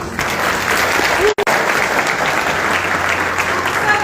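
Session-ending applause from a live event audience in Goa, dense steady clapping that fills the whole stretch, with a brief break near the middle before resuming.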